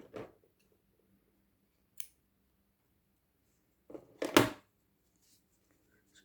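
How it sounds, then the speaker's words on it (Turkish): Scissors snip excess cord during magnolia hair-clip making, a few short crisp cuts: one near the start, a faint one around two seconds, then a louder double snip later, with quiet gaps between. "fazla olan ipimizi de yine keselim"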